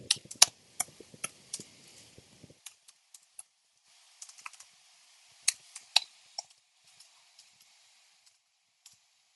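Someone types on a computer keyboard in quick clicking bursts, then slows to scattered single keystrokes, close and crisp in an otherwise quiet room.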